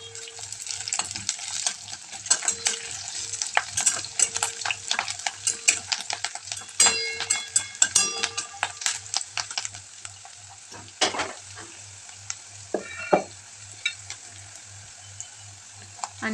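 Curry leaves and peanuts frying in hot oil, a busy crackling sizzle with frequent sharp pops and spoon scrapes against the pan, close and loud, with no talking.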